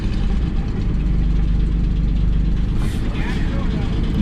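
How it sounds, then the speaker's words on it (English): A Nissan 300ZX engine idles steadily close by, just brought back to life, a continuous low rumble with people talking over it. "My God, I haven't heard this thing idle in a really long time"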